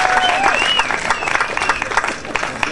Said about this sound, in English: let's hear that crowd applause for that one